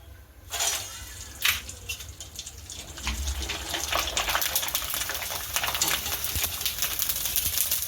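Sago and potato chakri fry in hot oil with a loud, continuous sizzle and crackling bubbles that thicken and build steadily. No voices are heard.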